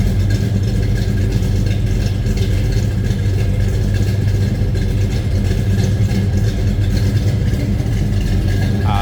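A 1968 Pontiac GTO Convertible idles in neutral with a steady, low rumble throughout, loud and close, with no voices.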